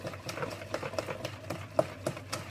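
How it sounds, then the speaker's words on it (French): A whisk beats a hot lemon tart mixture in a bowl, making quick, evenly spaced clicking strokes that are fairly quiet and close. "Je vais venir le verser sur le mélange de Romain. Et Romain continue à fouetter."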